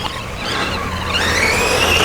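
A small HBX 12815 Protector 1:12 scale 4x4 RC race truck runs at full throttle over a curb, its electric motor giving a steady rising whine that builds and climbs in pitch, close and fairly loud, with no talk.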